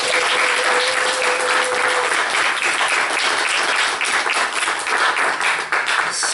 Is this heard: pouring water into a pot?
no